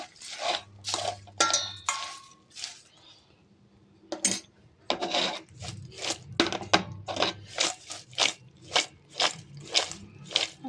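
A spoon scrapes and clinks against a pan while okra (ladies finger) fry is stirred and mixed, producing a series of irregular close scraping strokes with short gaps between them.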